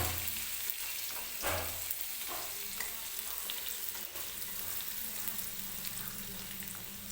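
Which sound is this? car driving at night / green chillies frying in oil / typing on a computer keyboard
green chillies frying in oil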